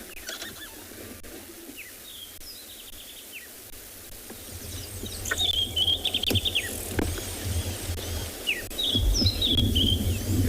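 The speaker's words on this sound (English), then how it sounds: "They're ground birds that forage through grasses." Small ground birds that forage through grasses call at sunset on safari, with repeated short chirps and trills, some near and fairly loud, over a steady bed of insect buzz and low rumble.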